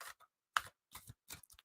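A few short, dry bursts of card riffling and flicking in quick clusters with brief pauses between them, close by and fairly quiet, no talking.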